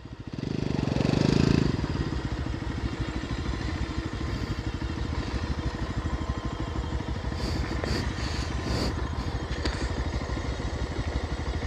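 A motorcycle engine revs hard and steady throughout in an off-road burnout on a muddy trail, the rear tire spinning and flinging mud, with a loud surge near the start and a constant roaring drone after.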